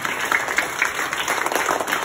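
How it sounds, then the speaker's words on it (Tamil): An audience claps for a speaker at a school event, a sustained, moderately loud round of applause with dense overlapping claps and no talk over it. "அவருக்கு ஒரு கைத்தட்டல் முதலில் கொடுத்துருவோம்."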